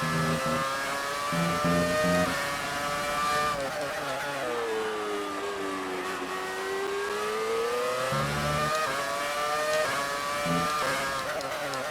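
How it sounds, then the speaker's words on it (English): A Brawn F1 car's V10 engine in F1 2018 wails loudly and continuously, its high pitch rising and falling as it shifts through gears. "Still hearing that V10 wailing its head off behind us"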